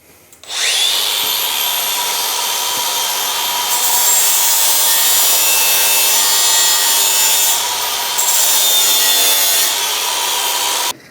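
A power tool grinds a bevel onto the bottom edge of a spare tire carrier bracket, a loud, steady, close, high-pitched whine and rasp that runs almost continuously for about ten seconds, with slight dips where the tool eases off.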